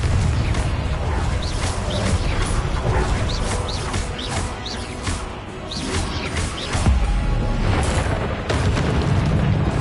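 A Confringo fire spell in a wizard video game sets off a string of loud, booming blasts that burst one after another over a continuous rumbling background.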